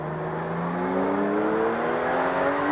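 A Zexel race car drives on the circuit during a race, its engine rising in pitch as it accelerates steadily, heard close and alone.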